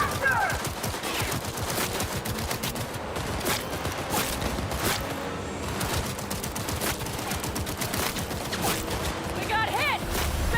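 Dense, sustained gunfire crackles throughout a Cyberpunk 2077 firefight, rapid overlapping pistol shots and bursts layered with game effects and music, loud and close, with voices speaking over parts of it.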